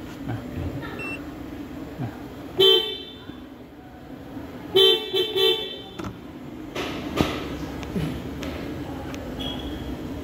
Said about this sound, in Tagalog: Yan guys yung stock horn nya.